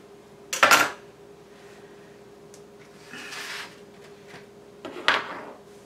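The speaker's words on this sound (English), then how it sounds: "My little spatula. Right here. Okay, I'm gonna cut into it." A spatula cuts into a gluten-free, dairy-free pineapple upside-down cake, producing two loud close scraping knocks against the pan a few seconds apart, with softer shuffling between and a faint background hum, no talking.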